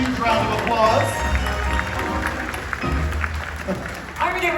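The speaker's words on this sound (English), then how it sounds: "Give them both a huge round of applause." Theatre audience applauding at a Universal Studios show, a steady wash of clapping and crowd noise that carries on beneath a voice talking over it.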